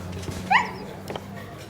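A dog whimpers in a restaurant: a single short, high whine over a steady low room hum, with faint background activity.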